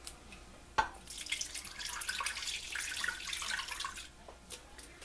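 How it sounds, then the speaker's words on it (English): Hands are washed under a running kitchen tap: a soft splashing, rushing water stream rises after a brief clunk, continues for a few seconds and then stops, close and moderately quiet. "So let me wash my hands and I'll be back"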